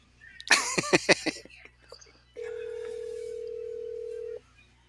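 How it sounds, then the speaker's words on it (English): An unanswered telephone call gives a single steady tone lasting about two seconds, heard after a brief burst of whispered talk. "You're not going to answer your phone?"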